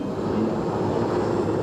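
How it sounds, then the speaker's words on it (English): A steady, loud engine drone from a helicopter overhead at a 1989 university commencement, a continuous low rumble and whir with no break across the stretch. "the president's helicopter is just about directly over the landing threshold"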